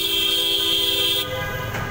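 Motorbike horn blaring in slow city traffic, one long continuous honk held close and loud for over a second, then cut off, leaving road noise underneath.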